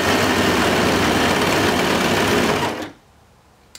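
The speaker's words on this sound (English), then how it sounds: "I'm going to sew along the sides of the shorts" Close, loud sewing machine stitching along the sides of boy shorts, a continuous even motor whir for almost three seconds that winds down and stops, followed by quiet and a small click.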